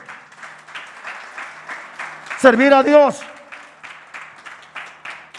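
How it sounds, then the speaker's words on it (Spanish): Congregation applause rolls through a church service at City Church Barcelona, a continuous patter of many hands under a preacher's voice, with the crowd briefly calling out a phrase together midway. "Denle un aplauso al Señor bien fuerte"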